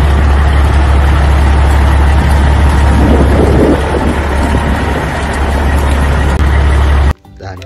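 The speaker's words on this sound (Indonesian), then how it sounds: "Mobil truk molen berwarna kuning." A yellow cement mixer truck's engine idles steadily at close range, a constant low rumble with a broad noisy wash above it, holding level for about seven seconds before cutting off abruptly near the end.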